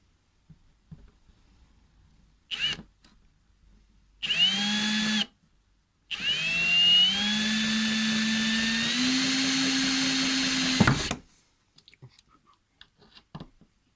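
A power drill fitted with a Tivoly right-angle drive attachment whirs loud and close in three runs: a short blip, a brief burst, then a long steady spin that shifts pitch midway before cutting off, with quiet clicks and handling between.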